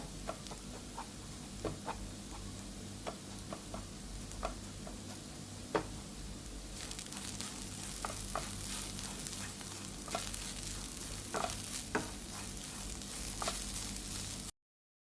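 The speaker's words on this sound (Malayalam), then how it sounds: "ഇതിനെ ജസ്റ്റ് ഇതിലിട്ടൊന്ന് ചൂടാക്കിയിട്ട് പിന്നെ നമുക്ക് മിക്സ് ചെയ്തെടുക്കാം" Asafoetida warms in a pan and is stirred into a raw mango chutney, giving a faint, continuous sizzle with scattered light ticks and scrapes of a spoon, growing a bit brighter partway through, no voices.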